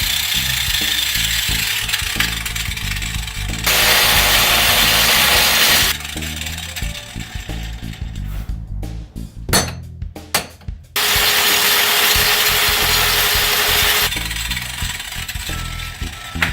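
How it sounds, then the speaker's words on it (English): An angle grinder cuts through a fused, rusted part while rear shocks are being replaced on a 2004 Mitsubishi Endeavor. Two long, loud sustained grinding passes are separated by a pause filled with metallic clanks and handling noise. "It's fused to it, so I'm going to have to grind it off."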